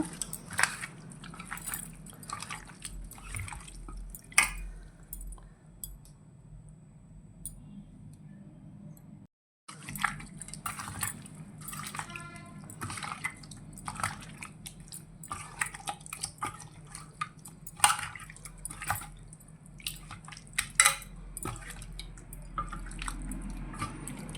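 Tamarind juice poured into a Telugu-style fish curry (chepala pulusu), heard as soft dripping and splashing with small ticking clinks, moderately quiet and alone with no talk, steady through most of the stretch apart from a brief gap.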